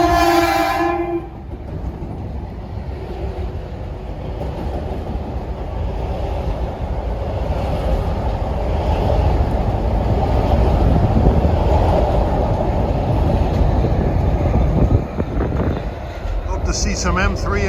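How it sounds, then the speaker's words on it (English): A Metro-North commuter train heading for New Canaan, Connecticut rumbles steadily closer, a short horn blast at the start, then continuous loud wheel and engine roar building to a peak and holding. "349 approaching is train 1740 bound for New Canaan, Connecticut"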